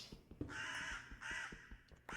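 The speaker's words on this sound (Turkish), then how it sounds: "Karganın sesi kafamın içinde var ya o kadar çok geliyor ki ses anlatamam size." A crow caws repeatedly inside a modded survival video game, several harsh, drawn-out calls spaced close together and fairly prominent, with small clicks and game noises in between.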